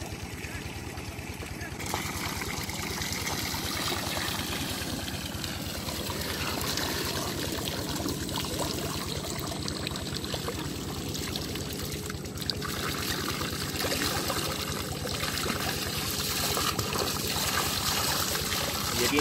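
Steady running water pours and splashes continuously for a long stretch while dishes are rinsed at a jungle farmhouse, with faint clinks and a voice murmuring in the background.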